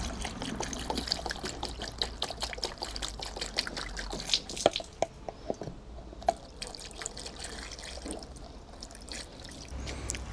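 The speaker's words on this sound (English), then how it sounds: "Now, just going to top off the radiator with the De-Ionised water." Deionised water is poured into a Kawasaki Z900 motorcycle radiator, a close, steady trickle with scattered drips and small splashes, no talking.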